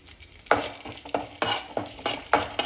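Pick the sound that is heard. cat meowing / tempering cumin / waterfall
tempering cumin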